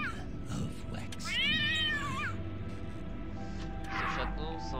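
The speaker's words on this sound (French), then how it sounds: "Ce chaton semble affamé. Il a peut-être faim." A hungry kitten in the game Lost Grimoires: Stolen Kingdom gives one clear rising-and-falling meow, followed by a fainter second mew, under a person speaking in French.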